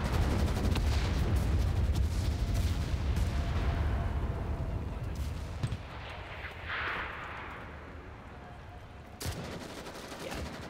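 Rapid gunfire crackles in the Enlisted video game on a Soviet Berlin map, heavy and loud at first, then thinning out, with a single sharp shot late on.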